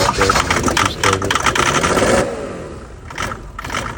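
A Mercedes OM606 diesel engine swapped into a freshly painted W126 chassis, hot-wired and running without its exhaust, clattering loud and rough, then easing off into a quieter idle after about two seconds.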